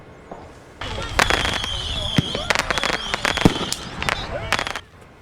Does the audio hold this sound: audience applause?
no